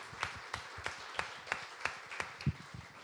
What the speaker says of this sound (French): Est-ce qu'on peut applaudir et accueillir ceux qui nous rendent visite ce matin?